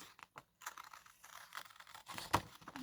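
Scissors snipping and paper rustling as a printed picture of chicks is cut out for a craft Easter card, close and quiet, with irregular crisp scratchy bursts and short pauses.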